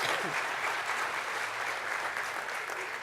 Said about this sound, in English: So can I just ask us to give them a round of applause?